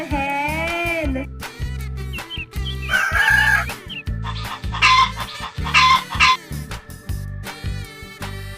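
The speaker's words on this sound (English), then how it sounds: "H for hen." A hen clucks and squawks in short, loud bursts over a synthesized children's song melody with a steady bass beat.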